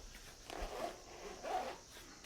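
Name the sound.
zipping up a guitar travel gig bag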